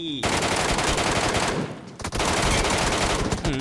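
Rapid automatic gunfire in the PUBG Metro Royale shooter game: dense, loud, continuous bursts with a brief break partway through before the firing resumes.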